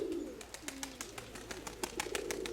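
Pigeons coo softly in short rolling phrases, quiet and somewhat distant, over light rustles and clicks in a loft on a windy day.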